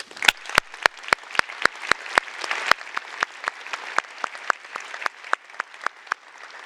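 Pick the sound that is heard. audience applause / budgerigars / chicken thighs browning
audience applause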